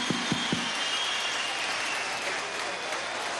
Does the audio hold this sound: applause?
yes